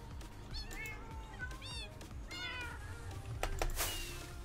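A Minecraft cat meows several times in short, rising calls over a busy game background, fairly close and clear.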